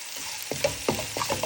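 A spoon stirs salt-seasoned ingredients sautéing in a pan for salmon curry, giving a soft steady sizzle with a few light scraping strokes, close and quiet.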